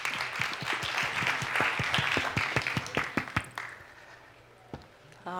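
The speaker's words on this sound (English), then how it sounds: "Please give Cynthia a round of applause." An audience claps for a speaker at a technology challenge results event. The applause is full and sustained for about three seconds, then thins to a few scattered claps and fades to near quiet.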